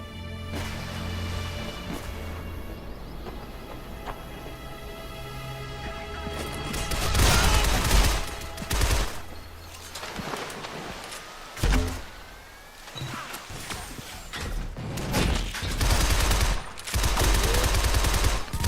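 Gunfire in the video game Shadow Complex, aimed at a big enemy armed with a Gatling gun: loud bursts of rapid shots and heavy impacts, layered over a droning game soundtrack.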